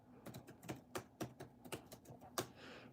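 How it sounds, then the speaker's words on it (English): Rapid clicking of keys on a computer keyboard as a name is typed in, a close, uneven burst of sharp taps with short pauses between clusters and no voices. "Typing in Mikey"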